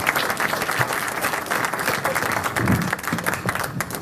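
Audience applause at an energy startup pitch event in Boston, a full, continuous round of clapping from a seated crowd, fairly close and even in loudness across the few seconds.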